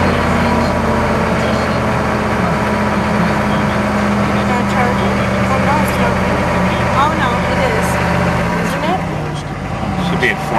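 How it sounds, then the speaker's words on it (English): Turbocharged vehicle engine idling loudly and close, its throttle pressed so the drone rises and holds, then eases off near the end, with voices over the steady rumble. "Touch the gas a little bit, the throttle."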